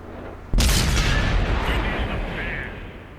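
A 122mm tank gun fires in World of Tanks, one sharp, loud blast that cuts in abruptly and leaves a long rumbling tail decaying over the next few seconds.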